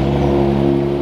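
A Lamborghini Revuelto engine holds a loud, steady high rev with a smooth droning tone, no voices.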